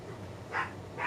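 Two short dog barks, a bit distant and muffled, spaced about half a second apart over a low steady background.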